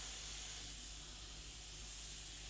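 A steady, quiet hiss of an airbrush sprays paint through a microdot template, continuous for a couple of seconds.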